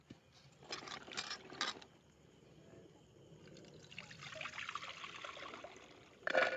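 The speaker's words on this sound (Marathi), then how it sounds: "आता दोन तीन पाण्याने चांगलं धुवून घेतलं" Freshly picked wet cashew nuts are rinsed in water outdoors, with quiet trickling and pouring in short bursts, then a longer swishing stretch and a louder splash at the end, fairly faint overall.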